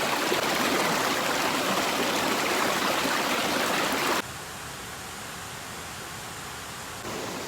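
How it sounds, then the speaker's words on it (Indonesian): Steady rushing of a small, swift river deep in a Kalimantan forest, loud and close at first, then suddenly quieter and more distant before rising slightly again. "Terdengar jelas suara sungai. Ada sungai, cukup deras."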